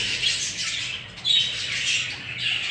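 Opal budgerigar chicks and adults squawking inside a nest box, a dense, close chorus of harsh high-pitched squawks and chirps continuing throughout without any talk.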